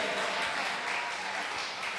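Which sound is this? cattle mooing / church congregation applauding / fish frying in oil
church congregation applauding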